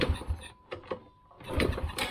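A Honda Supra motorcycle engine fitted with a racing CDI fails to start, sputtering and chugging in short mechanical bursts, stalling briefly before cranking again, close by and uneven.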